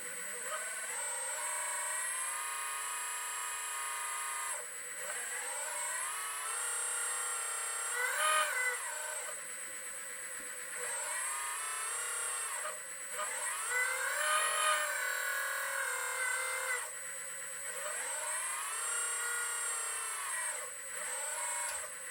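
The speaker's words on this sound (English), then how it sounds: "I'm going to turn the pump on a little bit." The hydraulic pump of a LESU 1/14 scale RC wheel excavator runs with a steady high-pitched electric whine, rising and falling in pitch as the load changes across repeated cycles, moderately quiet and close.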